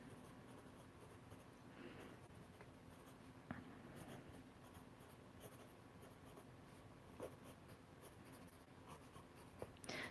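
A Baron Fig Archer pencil writes on pocket notebook paper, giving a soft, continuous scratchy graphite rasp with occasional small taps, close and quiet throughout.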